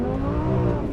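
A 1000 hp twin-turbo rear-wheel-drive Audi R8 in dynamic mode with traction control on, eased onto the throttle; a steady, loud engine drone with layered harmonics fills a single brief moment.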